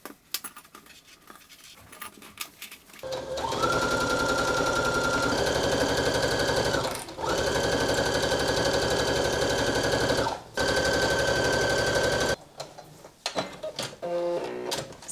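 A sewing machine runs at steady high speed, joining a garment front to its side front, in three long bursts with brief pauses between them. Soft handling clatter and rustling come before and after.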